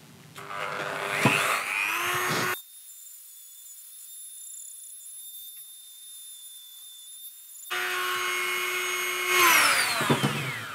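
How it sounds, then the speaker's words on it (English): A power sander fitted with a sanding head smooths a head unit fitting, whining loudly for about two seconds, stopping for several seconds, then running again at close range. "we'll switch back to the sanding head for hopefully what will be the last bit of polish on it"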